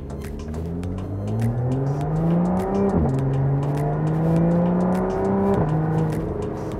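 A supercharged 3.5-litre Lotus Evora GT accelerates hard on the road, its engine note climbing steadily through the gears with two distinct shifts that drop the pitch before it rises again, loud and close with no talk.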